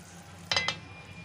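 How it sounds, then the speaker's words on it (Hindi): Potatoes dropped into hot oil, giving two short sizzling bursts over a low background hiss from the pan, faint and brief. "तो इस स्टेज पर हम आलू को डालेंगे।"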